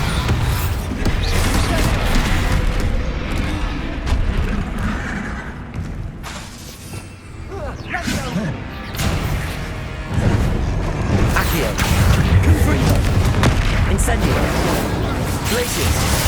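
Bombarda blasting-spell explosions in the video game Hogwarts Legacy, loud continuous booms, crashes and shattering in dense combat noise, with a short lull midway before it surges again.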